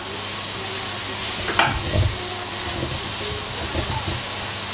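Onions fry and soften in a pan, giving a steady hissing sizzle with a sharp clatter from a utensil near the middle and a few softer stirring bumps afterward.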